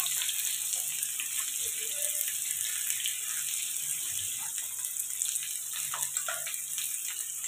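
Onion, ginger paste and tomato frying together in a pan for a cauliflower, carrot and pea curry, a steady close sizzle with occasional faint clinks over it.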